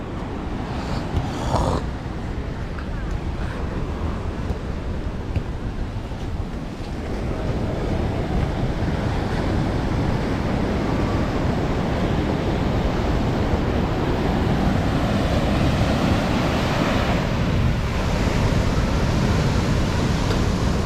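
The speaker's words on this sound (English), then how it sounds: "Big ass waves. The waves is huge." Large ocean waves roll and break at Ipanema Beach in Brazil, a loud continuous roar of surf with heavy wind buffeting the microphone, swelling slightly stronger partway through, no talking.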